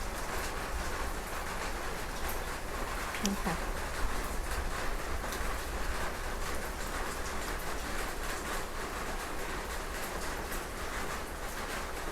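Steady rain patters on surfaces, a constant wash of drops that continues without letup from start to finish.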